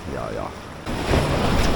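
Rough sea surf breaking near the shore on a barracuda fishing outing, a steady wash of wind and water that grows louder partway through, with a faint voice-like tone early on.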